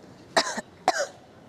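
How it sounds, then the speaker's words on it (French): Two quick coughs close by, each a sharp burst with a short rasping tail, separated by a brief pause. "Je tousse."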